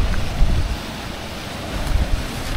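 Sea surf washing near a coastal cave, a steady broadband roar with gentle swells and wind buffeting the microphone, no talking.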